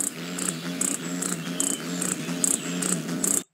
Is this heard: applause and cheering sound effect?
no